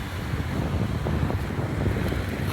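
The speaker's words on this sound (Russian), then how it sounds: "Ох, ветерок прямо в лицо. Обжигающий." Strong wind buffets the microphone on a cold city avenue near a square, producing a constant, loud, rumbling roar with gusty fluctuations and no voices.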